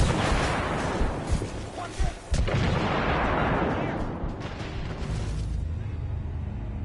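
A grenade goes off amid battle in The Order, loud bursts and booms layered with gunfire and shouted voices over a dense, chaotic wash of combat noise.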